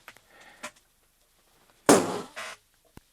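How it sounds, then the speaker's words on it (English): A budget whoopee cushion, sold as a cheap Christmas stocking filler, gives a loud, close, realistic fart noise about a second long. A shorter squeak follows it, and fainter rustling comes before. "I think that was pretty realistic in terms of fart noise."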